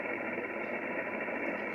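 Amateur radio signal on 7090, a steady buzzing, rattling clack heard through the receiver over a constant noise hiss, even and unbroken throughout.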